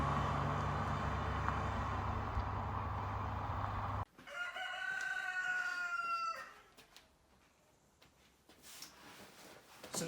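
A cockerel crows close by in a single drawn-out call after a loud, steady noise cuts off, followed by quieter background sounds.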